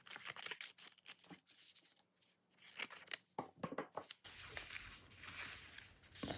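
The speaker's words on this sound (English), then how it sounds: "So first I need to cut down this paper." Scissors cut through paper for a journal page in a series of quick, close snips and crunches separated by short pauses, ending in a longer rustling, tearing stretch.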